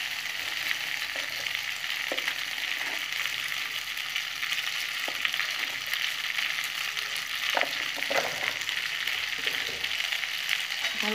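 Pasta tossed with ground black pepper fries in a pan, giving a continuous even sizzle with occasional light stirring knocks and no talking.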